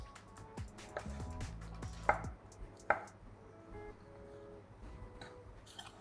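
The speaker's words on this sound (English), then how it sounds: "Just gonna chop them quite small, like by size sort of." A knife chops boiled potatoes on a board for a potato and asparagus salad, with a quick run of close, crisp cuts followed by two sharper strokes and then quieter, scattered taps.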